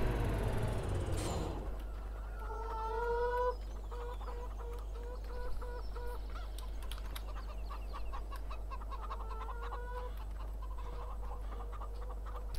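Chickens in a chicken pen in the Farming Simulator 17 video game, clucking in short repeated bursts at moderate loudness over a steady low drone after a brief louder opening.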